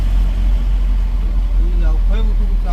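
Car engine idling on a bridge in rainy Konkan, a steady low rumble throughout, close and fairly loud, with people talking over it.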